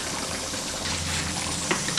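Thick ground sesame, peanut and cashew paste poured into simmering eggplant gravy, a soft continuous liquid trickle and pour with a brief splash near the end, no talk.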